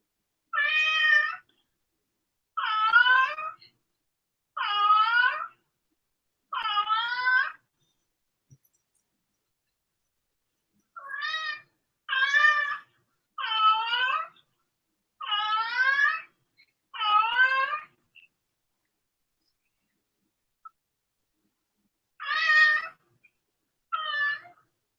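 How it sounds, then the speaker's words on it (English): A cat meows again and again, eleven distinct rising-and-falling cries in loose groups with silent gaps between them, close and clear with no talk over them. "Oh, your cat"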